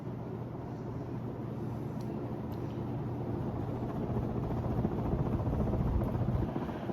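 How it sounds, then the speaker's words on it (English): Vintage 1935 Emerson Roundnose 56-inch ceiling fan spinning at about 220 RPM, a smooth steady low whooshing hum with faint mechanical drone, building slightly louder toward the end, no talk. "Very smooth running fan for its age too."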